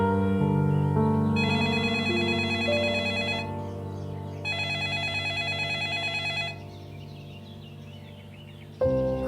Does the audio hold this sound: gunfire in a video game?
no